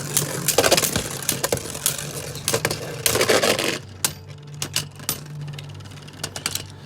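Beyblade Burst Turbo tops, Air Knight against the attack-type Valtryek, spinning and clashing in a plastic battle ring, a dense rattling whir with sharp repeated collision clicks that thins into scattered taps as the spin fades.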